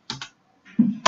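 Several crisp key presses from a computer keyboard, most likely the Enter key: two quick clicks, a short pause, then a duller thump and one more sharp click, close and isolated.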